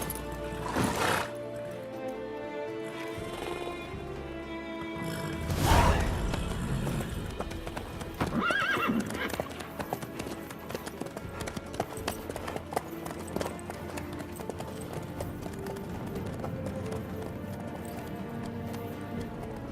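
Horse hooves clip-clop steadily through The Witcher 3: Wild Hunt, joined by a loud whinny early on, with game music layered underneath and no talk.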